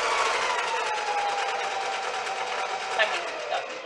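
Sewing machine stitching mesh fabric, a continuous fast mechanical whir with a steady rattling rhythm, close and fairly loud, with a person talking over it.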